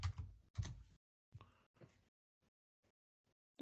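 Keys tapped on a computer keyboard while entering a Linux command, a short quiet burst of a few clicks, then several sparse, faint single keystrokes after a pause, close by in a quiet room.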